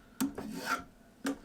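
A wooden knife-scraper handle being shaved, giving three short rasping scrapes, close and clear, with a pause between the second and third strokes.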